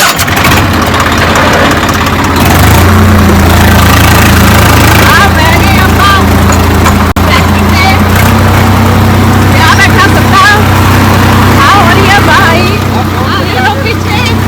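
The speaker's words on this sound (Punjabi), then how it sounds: "ਵੀਰ ਜੀ ਖੇਤਾਂ 'ਚ ਟਰੈਕਟਰ ਚਲਾਉਣ ਲੱਗੇ ਹੋਏ ਨੇ" A tractor engine runs steadily in farm fields, a close, loud low rumble with an idling drone throughout while people talk over it.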